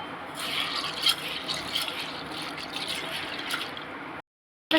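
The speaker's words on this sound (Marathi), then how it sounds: "मी एक ग्लासभर डाळ घेतली आहे ती आता स्वच्छ धुवून घेणार आहे" Chana dal lentils being rinsed in water: a steady close wash of sloshing and dripping water with small splashes, continuous for about four seconds before cutting off.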